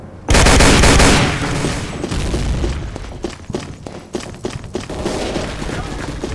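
Sustained machine gun fire rattles loudly in the shooter Day of Defeat: Source, a dense opening burst followed by scattered shots and further volleys under ongoing battle noise.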